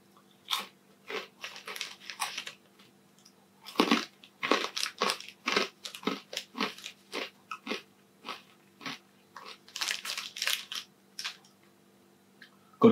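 Crunchy pork scratchings eaten close up as a beer snack, with repeated sharp bites and crunching chews in irregular bursts, louder in the middle and toward the end, no talking.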